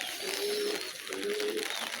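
Pigeons coo softly inside a covered loft on a rainy day, two low drawn-out coos heard faintly over a steady background hiss.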